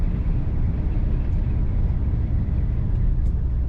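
A 1957 Chevrolet 3100 pickup truck runs at a steady idle, giving off a low, even rumble that holds constant with no voices over it.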